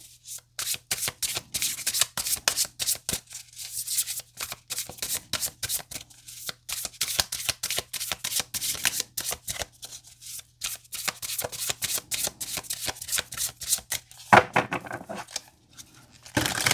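Tarot cards are shuffled by hand in quick, close riffling bursts, a dense run of crisp card slaps and flutters with brief gaps, ending in a louder cluster.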